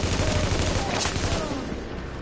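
Rapid bursts of gunfire from The Division video game, a dense volley of automatic shots crackling close and loud for a couple of seconds before easing slightly, with a voice briefly audible underneath.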